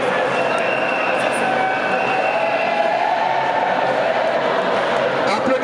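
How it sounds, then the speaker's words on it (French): A large crowd at a sports medal ceremony in the DR Congo applauds and cheers the Indian winners, a dense, continuous roar with an announcer's voice running through it. "Applaudissez très fort pour les amis indiens."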